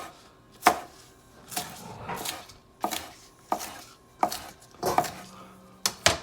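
A knife slices through the fat ends of green onions, a series of about nine sharp, close chopping strikes against a board at an uneven rhythm, with no voices.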